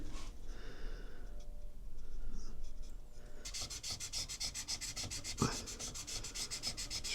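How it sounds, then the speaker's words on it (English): Metal scraper rasping old gasket remains off an aluminium part from a Honda RS250 engine, a steady close scratching that turns to faster, louder repeated strokes in the second half, with no talk. "just gently, without digging into the aluminium, just scrape off the last remains of the gasket"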